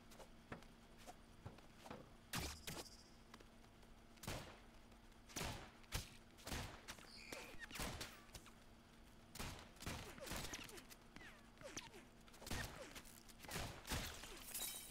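Repeated explosions from a mayhem ability in a round-based video game, a long run of sharp cracks and blasts at an irregular pace over a faint background hum, with no talk.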